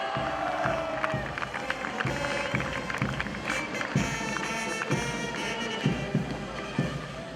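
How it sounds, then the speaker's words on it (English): An audience at a summit inauguration ceremony applauds a college from the floor, with dense scattered clapping, crowd murmur and occasional thumps carrying on throughout at moderate distance. "A big round of applause for Anjuman College of Engineering"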